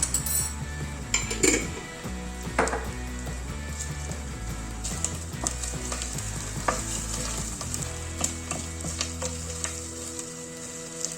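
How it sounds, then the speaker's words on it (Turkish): A spoonful of dried mint stirred into hot fat in a pot while making Turkish un tarhanası soup. Steady close sizzling comes with repeated scraping of a spoon and light metallic clinks against the pot. "dibinde bir tatlı kaşığı kuru nanemi de çevireceğim."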